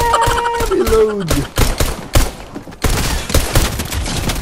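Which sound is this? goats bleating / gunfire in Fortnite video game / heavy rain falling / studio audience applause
gunfire in Fortnite video game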